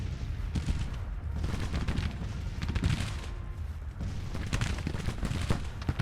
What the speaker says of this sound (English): There's a volley by Wingo.